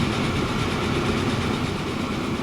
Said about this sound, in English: Passenger trains out in the distance.